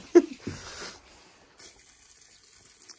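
Liquid flows by gravity, not under pressure, while a Toyota Corolla VII (E100) heater core is flushed, a faint, quiet trickle with a few brief splashes at the start.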